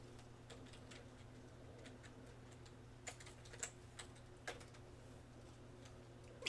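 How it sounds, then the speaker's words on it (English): Soft, sparse clicks of typing on a computer keyboard over a low electrical hum, with a few slightly louder key presses toward the end and no talking. "But let's type in Fortnite."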